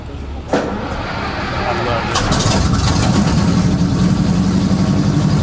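The big, heavy engine of a Sherman tank runs with a loud, continuous rumbling roar that swells after a couple of seconds, heard close up with people talking over it.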